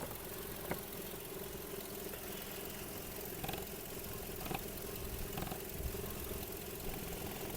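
A 2008 Volkswagen Golf Plus with a 1.6 MPI petrol engine idles steadily. The hum is low, even and continuous, with a few faint clicks over it and no voices.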